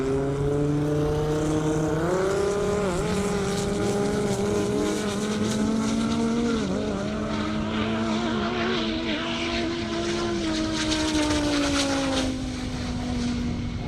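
A Vengeance Racing Viper race car accelerates hard at full throttle down a half-mile airstrip at a 200 mph event, its loud engine roar climbing steadily in pitch and holding strong and close for the whole run.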